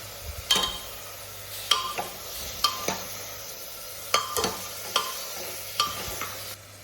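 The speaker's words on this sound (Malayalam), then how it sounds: "നമുക്കതിലേക്ക് സവാള ഇടാം കുറച്ച് നേരം ഒന്ന് ഇളക്കി കൊടുക്കാം" Sliced onion frying in a pan for Kerala-style beef curry, stirred with a spoon that clinks against the pan in regular strokes over a steady low sizzle, close and fairly quiet.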